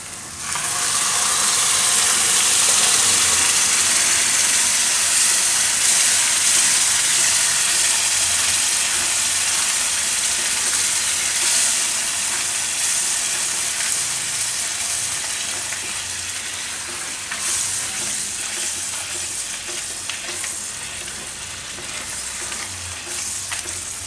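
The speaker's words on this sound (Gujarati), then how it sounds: "હવે આપણે આમાં જે સરસો બાફીને આપણે ક્રશ કરી હતી એ નાખી દે." Boiled, crushed mustard greens hit a hot pan for a Gujarati sarson shaak, setting off a loud, steady sizzle and frying hiss with stirring. It runs without talk and eases slightly toward the end.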